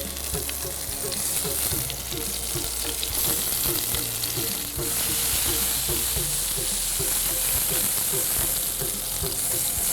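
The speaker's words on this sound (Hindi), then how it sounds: "यहाँ पे गार्लिक जो ब्राउन हो रहा है, इस बीच में मैं जो टमाटर मैंने काटे थे इनको उल्टा कटी हुई साइड नीचे रख के इसमें डाल दूंगा" Garlic browning with cut tomatoes laid face down in a hot pan sizzle loudly and continuously, with occasional stirring clinks close by and no voices.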